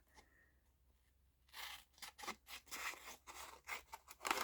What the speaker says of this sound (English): Now what I'm going to do is cut this off